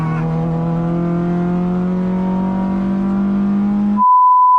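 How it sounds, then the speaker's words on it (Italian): Naturally aspirated 2.0-litre rally-style car engine holding a steady, loud drone with a rising pitch as it pulls, cutting off abruptly near the end to a brief tone. "Proprio un bel 2000 aspirato da macchinina da rally, e da guidare questa macchina, signori, è tanta roba."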